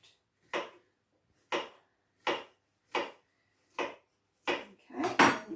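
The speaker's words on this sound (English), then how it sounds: "first thing you need to do is chop up your nice banana" A knife chops through a soft banana on a board, seven separate cutting knocks at a steady pace, close and clear, the last few quicker and heavier, with no talking.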